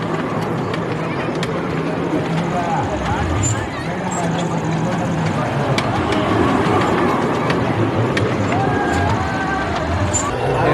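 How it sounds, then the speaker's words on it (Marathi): A fairground train ride rumbles along steadily amid a busy crowd's babble and noise at the Anganewadi temple fair, the din continuous and fairly loud throughout. "ट्रेन जोरात आहे"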